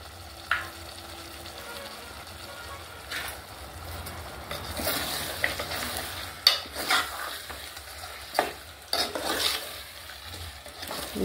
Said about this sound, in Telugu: ఇప్పుడు ఉప్పు కారం అన్నీ కలిసేటట్టు బాగా కలిపి నూనెలో కొంచెం సేపు కూర మగ్గించుకోవాలి